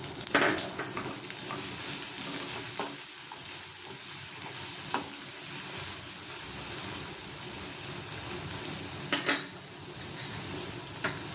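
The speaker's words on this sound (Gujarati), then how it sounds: "હવે ડુંગળી ઉમેરશું। એક નાની ડુંગળી લીધી છે, ઝીણી તમારે લીધી છે।" Finely chopped small onion frying in hot spiced oil for a moth bean curry, a steady close sizzle with occasional stirring clinks and scrapes against the pot.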